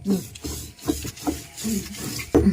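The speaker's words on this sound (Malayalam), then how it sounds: "എനിക്ക് അരകല്ലെ വെച്ച് അരച്ച് കറി വെക്കുന്ന എനിക്കിഷ്ടം" Coconut is ground by hand on a traditional Kerala grinding stone in a village kitchen. A rough scraping rasp repeats in steady back-and-forth strokes, loud and close, with no voice.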